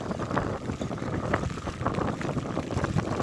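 Strong late-August storm wind, blowing above 20 metres per second, roars across a harbour area, buffeting the microphone in loud, unbroken gusts with faint water sounds beneath.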